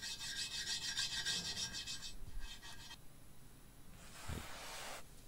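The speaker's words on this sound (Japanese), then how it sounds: "ワイヤーブラシで磨いてます。" A wire brush scrubbing oiled rear parts of a Honda Africa Twin XRV750 motorcycle, rapid rasping back-and-forth strokes up close, with a steady dense stretch, then shorter bursts and a brief thud near the end.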